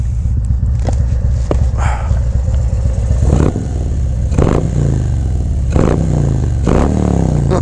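A Harley-Davidson Road Glide fitted with a Feuling 465 cam rumbles loud and close with a deep, lopey idle, punctuated by several sharp throttle blips and revs with clattering mechanical noise.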